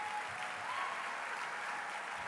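Steady, fairly soft applause from an audience greets a secondary school marching band at a championship, an even wash of clapping with no break.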